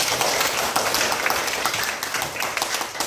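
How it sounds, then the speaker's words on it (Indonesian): Students in a classroom clap for a classmate during a science lesson on the human digestive system; there is a few seconds of lively, uneven clapping from a small group, close and fairly loud, with no talking over it. "berikan tepuk tangan"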